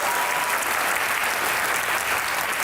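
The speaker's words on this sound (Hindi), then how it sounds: "आपकी भरपूर तालियों में आज के मेहमान हैं कुछ खास, मिकाल जुल्फ़िकार और आमना इलियास।" A studio audience at a television comedy talk show breaks into dense, steady applause, close and loud throughout the short stretch, with no voices over it.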